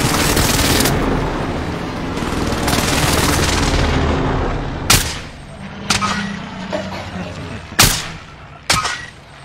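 Loud, close gunfire begins as a dense, continuous burst of shots, then thins into four separate sharp single bangs spaced about a second apart, each with a short echoing tail.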